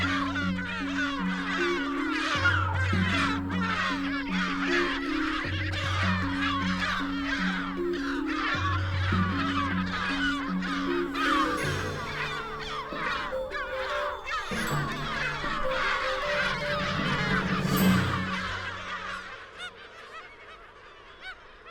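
Olrog's gulls calling in the Bahía Blanca estuary, a dense flock of harsh, repeated honking cries overlapping continuously at close range, gradually thinning out near the end.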